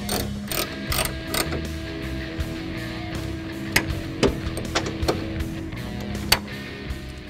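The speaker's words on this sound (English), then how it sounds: "Now we're going to bolt the motor back down and install the cylinders." A hand ratchet bolts the convertible top motor back down on a Mustang, giving repeated sharp clicking strokes in short bursts against a quiet workshop background, close and moderately loud.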